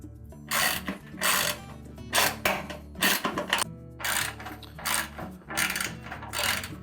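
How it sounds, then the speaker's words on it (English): A ratchet removing metric bolts from an LG washer tub during a spider assembly replacement, with repeated bursts of clicking ratchet strokes and pauses between, close and clear. "So we'll just go ahead and take those bolts off."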